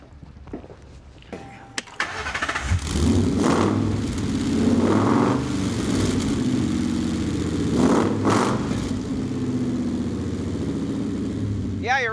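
A few clicks, then a car engine with many exhaust pipes cranks and fires up, settling into a loud, deep rumbling idle with a couple of revs, close by.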